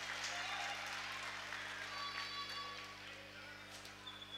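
Moderate applause from a crowd at a national-teams tournament game, Angola against Switzerland, greeting young volunteers who are cleaning the playing surface; steady, somewhat distant clapping that fades slightly toward the end.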